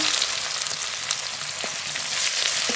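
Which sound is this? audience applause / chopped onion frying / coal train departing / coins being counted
chopped onion frying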